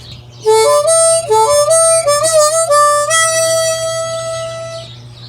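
A harmonica plays alone, alternating bent, wavering draw notes with brighter blown notes in a short, expressive phrase that fades at the end.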